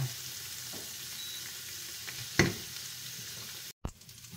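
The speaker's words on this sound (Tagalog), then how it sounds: "Haluin natin ng saglit para magkalasa yung dilis." Fried anchovies (dilis) being stirred briefly through leftover sauce in a pan, a low steady sizzle with a single sharp utensil scrape midway and a short pause near the end.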